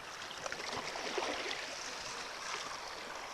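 Gold concentrate and water are poured gently down a sluice, a soft, steady rush and trickle of flowing water close by, with no talk.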